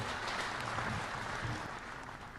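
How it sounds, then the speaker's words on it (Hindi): Faint, distant applause from an audience at a ceremony honoring Uttar Pradesh MSME units, welcoming a union minister; a steady wash of clapping, quiet and continuous throughout. "बहुत ज़ोरदार तालियों के साथ स्वागत करें आदरणीय केंद्रीय मंत्री"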